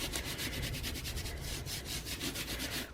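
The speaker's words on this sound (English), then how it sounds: "you can see how much is coming off just by me rubbing my hand over it" A hand rubs back and forth over a glitter-covered craft surface to brush off loose chunks, making a steady, close, dry scratchy swishing with faint rhythmic strokes.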